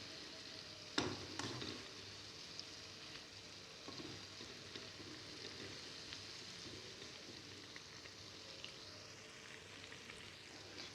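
A snack fries gently in oil over a low flame, giving a faint, even sizzle with a couple of sharp clinks early on and no voices.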